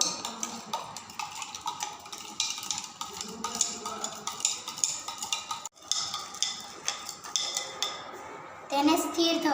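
A spoon stirs soil into water in a beaker during a school science demonstration, giving a run of quick light clinks and taps against the glass with a brief pause midway.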